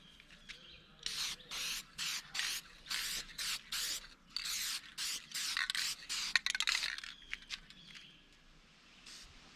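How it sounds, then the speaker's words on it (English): Short bursts of an airbrush or spray gun lay a clear lacquer coat over a painted muskie fish replica, a dozen or so hissing pulses of varying length separated by brief pauses, close and steady, with no talking. "Now I like to seal this whole thing in with a clear coat of lacquer."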